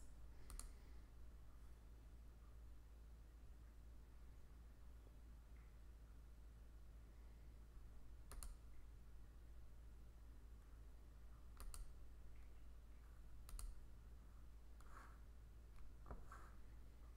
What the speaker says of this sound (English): Hear me clicking and closing tabs.